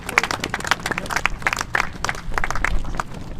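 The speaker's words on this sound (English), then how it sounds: "Well done. Round of applause." Applause from an audience at a surf life saving club gathering, scattered clapping in irregular bursts at moderate level, fairly close, with no talk over it.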